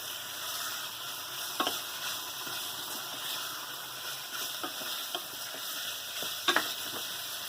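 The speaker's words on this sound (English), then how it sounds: "keep everything in the saucepan moving so it doesn't stick. You're stirring it." Faint continuous sizzling of sausage and vegetable curry in a saucepan, with occasional scraping clinks of a stirring utensil, steady and low in level, no talking.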